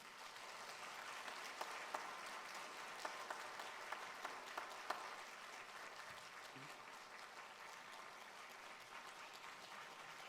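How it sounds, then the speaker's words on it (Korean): A church congregation at an ordination thanksgiving service applauds to welcome a tenor, with dense, steady clapping throughout, heard from a distance at low level. "나오셔서 우리 뜨거운 박수로 환영하겠습니다"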